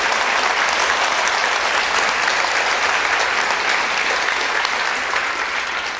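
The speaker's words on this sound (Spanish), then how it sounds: "denle un aplauso, por favor" An audience at a talk on the Church's role regarding the 2030 agenda applauds loudly and steadily, a dense wash of clapping that holds level throughout and only begins to thin at the very end.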